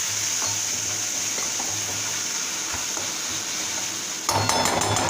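Chopped tomatoes with salt sizzle steadily in a frying pan, a continuous close hiss with soft stirring scrapes, and a louder burst of clattering stirs near the end.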